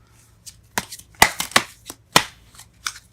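Tarot cards shuffled by hand, a series of quick crisp riffles and slaps in an irregular rhythm, close and clear, with no talk.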